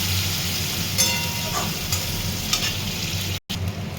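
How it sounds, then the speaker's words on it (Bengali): Chopped onion and cumin seeds fry in oil in a pan, giving a steady, close hiss of sizzling with occasional stirring scrapes. The sound cuts out briefly near the end, then resumes. "এবারে ফোড়নে একটু জিরে দিয়েছি আর পেঁয়াজটা কুচো করে ভাজা করছি ভালো করে।"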